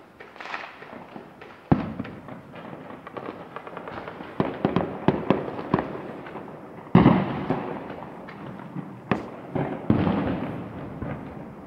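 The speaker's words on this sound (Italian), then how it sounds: "I fuochi stanno dalla parte sud di La Mezza" Fireworks bursting over Lamezia Terme on New Year's Eve, a steady string of pops and louder booms at varying distance, some sharp nearby cracks punctuating a continuous crackling rumble, with no voices.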